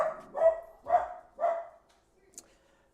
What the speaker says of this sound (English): These sausage dogs, they bark a lot.